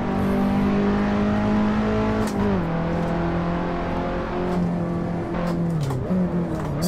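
Race car engine held at full throttle in Assetto Corsa, a loud steady high-pitched drone that dips briefly as the revs shift, then carries on strong throughout.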